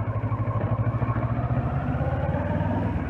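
A Kawasaki Versys 650 motorcycle being ridden, its engine giving a steady, close, pulsing rumble that holds an even rhythm throughout without letting up.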